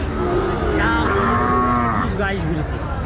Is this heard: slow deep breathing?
no